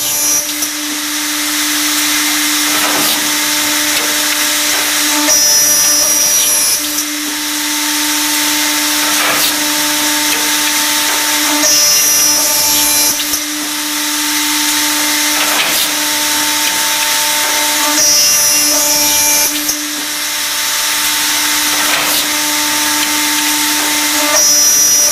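A Hermance Accu-Systems HPM CNC boring and routing machine runs with a steady mechanical whine and tonal hum, its independently controlled carriages moving to cut mortises. Louder bursts of cutting recur about every six to seven seconds, with no talking.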